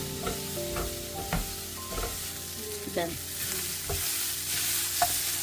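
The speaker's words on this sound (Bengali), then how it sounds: "এটা একটু ভেজে এখন দিয়ে দেওয়া হবে" Food fries in a pan in a home kitchen, a steady close sizzle broken by repeated scraping and clanking stirs of a spatula, with no talking.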